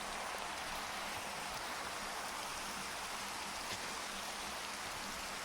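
Steady rain in the Minecraft video game, a continuous even hiss of falling drops with no other sounds over it, fairly quiet.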